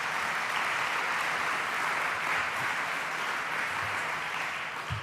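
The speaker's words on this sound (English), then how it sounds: "Give them a round of applause" A crowd at a New York State gun-law bill signing applauds steadily and loudly for the whole stretch, a dense wash of clapping with no break.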